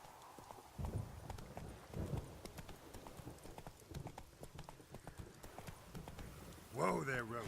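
Roach the horse in The Witcher game, hooves clip-clopping in a steady gallop with scattered impacts, ending with a whinny as a voice speaks over the hoofbeats.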